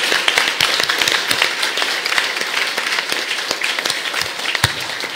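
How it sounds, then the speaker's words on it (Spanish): A crowd at a church gathering in Xepac, Tecpán, applauds steadily throughout, dense clapping with a few sharper claps standing out, without pause. "Y me van a invitar a brindar fuertes aplausos."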